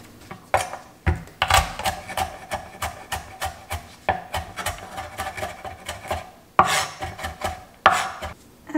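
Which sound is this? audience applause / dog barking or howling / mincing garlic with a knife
mincing garlic with a knife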